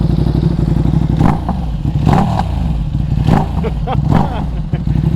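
A 2020 Ducati Panigale V2 sport motorcycle engine revs repeatedly in short throttle blips over a steady idle, loud and close, with clattering mechanical noise.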